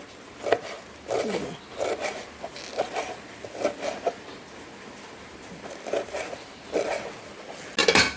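Taro leaves cut with a knife, about a dozen crisp separate chops at an uneven steady pace, close and fairly quiet, with a small flurry of quick cuts at the very end.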